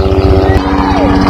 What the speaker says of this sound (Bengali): হেলিকপ্টারের শব্দ ডরে গেছে গা